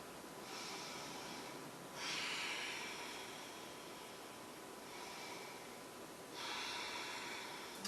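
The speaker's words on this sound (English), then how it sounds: "And breathe." Deep, slow breaths during a beginner yoga session, with long airy inhales and exhales alternating close to the microphone in a steady rhythm of about two full cycles.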